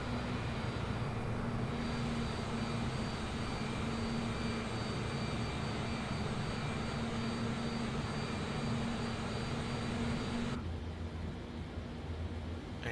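Simulated airliner engines hum in flight, a constant dense whine-and-rumble drone with steady tones that runs unbroken, then shifts abruptly near the end as the high hiss drops away.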